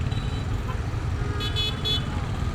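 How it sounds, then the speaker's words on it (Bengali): Car horns honking in a congested traffic jam, a couple of short toots rising over a constant rumble of engines and road noise, with voices audible amid the traffic. "মোটামুটিভাবে ভালোই জ্যামের মধ্যে আটকে যাচ্ছি মনে হচ্ছে।"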